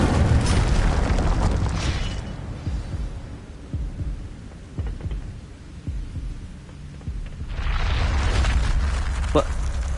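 An Incendio fire spell blast in the video game Hogwarts Legacy, heard as a heavy rushing whoosh at the start and again near the end, with a low rumbling drone in between.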